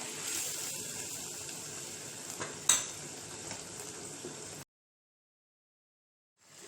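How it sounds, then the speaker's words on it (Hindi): Ground tomato, onion, ginger and garlic masala fries and sizzles in a pan for an aloo gosht salan, with soft stirring and one sharp clink of a utensil before it cuts to silence. "इसको भी अच्छी तरह से हम फ्राई करेंगे।"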